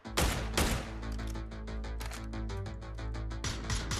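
PUBG gunfire during a competitive esports match: a few sharp shots up front, then a run of quick rapid pops over sustained background music and game noise, fairly quiet overall.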